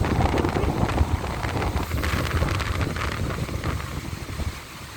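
Strong wind blows outdoors and buffets the microphone, making a loud, steady, rumbling roar that lasts throughout and eases slightly at the end.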